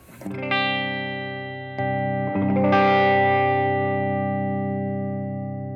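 An electric guitar through a Wampler Tumnus overdrive pedal rings out in a few sustained, shimmering chords with rich overtones, loud and alone, each strum decaying slowly.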